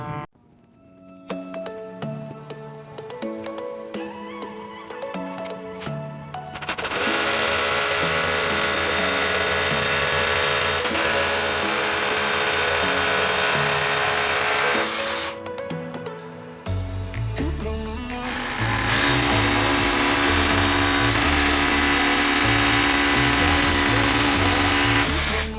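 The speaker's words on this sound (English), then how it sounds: "I'm just going to drill a hole. So I've got like a 12mm drill bit" A power drill with a 12mm bit whines in two long sustained bursts, grinding steadily into brick, with a short pause and quieter tool handling in between.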